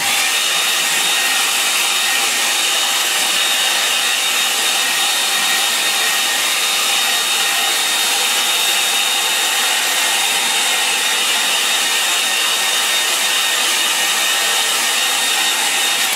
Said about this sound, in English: I'll just let that dry for a few seconds. I might give it a help with the blower.